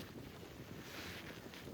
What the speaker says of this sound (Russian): Блин, ветер, конечно, сильный.